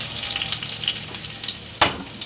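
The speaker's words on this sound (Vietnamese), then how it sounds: "Mình phi hành tỏi ở lửa nhỏ để cho hành tỏi nó chín vàng và thơm." Minced shallots and garlic fry in hot fish-frying oil in a pan over low heat, a steady close sizzle throughout with a sharp louder crackle near the end.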